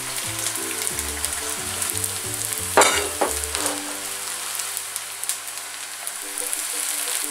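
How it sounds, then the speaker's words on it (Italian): Aubergines are tipped into a pan of hot oil with browned garlic, setting off a steady crackling sizzle with a brief louder burst and stirring clatter as they go in, while a soft musical tone runs underneath. "l'aglio si è ben rosolato, andiamo ad aggiungere le melanzane tutte insieme."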